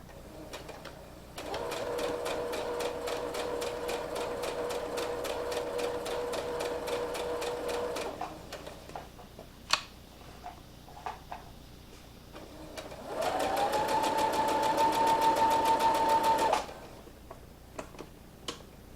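A sewing machine stitches fabric placemats and back-stitches them, giving two long runs of fast, even mechanical clatter with a steady motor whine. A quiet pause with a few clicks separates the runs.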